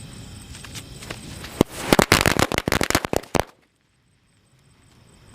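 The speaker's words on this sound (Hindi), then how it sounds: "टेस्ट करते हैं हमारे टर्की की पटाखों लड़ी का और देखते हैं ये कैसी चलती है" A string of Turkey-brand Diwali firecrackers going off outdoors, a rapid burst of loud cracking pops lasting under two seconds before stopping abruptly into near silence.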